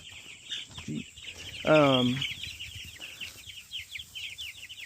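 Chickens clucking in a chicken house during routine chores, with steady background clucks and one louder drawn-out squawk near the middle, close and clear.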